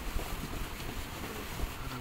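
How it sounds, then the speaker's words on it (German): Steady wind rushes and buffets the microphone, with low rumbling gusts and a broadband roar that stays constant throughout. "Bei dem Wind."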